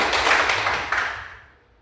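Classroom applause for a student during a sociology lesson, a brief burst of clapping that starts full and fades away within a couple of seconds.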